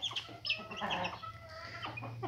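A hen clucks softly and repeatedly with her chicks, their high peeping mixed in close by, in an unbroken stretch of farmyard fowl sounds with no talking.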